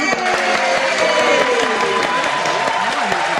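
A large studio audience applauding at a live show, a loud, full wash of clapping with some cheering that holds steady from start to finish.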